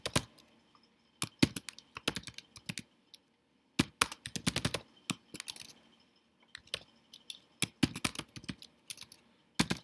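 Bursts of typing on a computer keyboard, quick clusters of crisp key clicks separated by short pauses, close and fairly quiet, with no talking.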